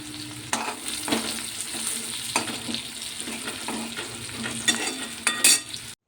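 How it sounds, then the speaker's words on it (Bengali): Bitter gourd slices frying in a pan in a home kitchen, a steady oily sizzle broken by spatula scrapes and stirring clatters, with a sharper metallic clink near the end. "রান্না বসিয়েছি, উচ্ছে ভাজা হচ্ছে"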